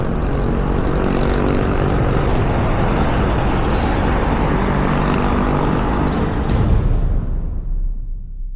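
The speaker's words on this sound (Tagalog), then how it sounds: "maingay yung jeep" A loud, noisy jeepney engine roars up close for several seconds, a broad, rough rumble that swells slightly near the end and then fades, with no talk over it.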